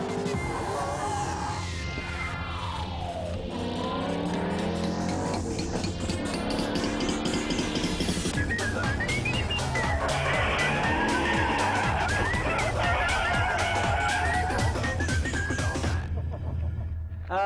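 A drift car's engine revs hard while tires squeal and skid at length through a corner under handbrake, the screech rising and wavering before cutting off near the end.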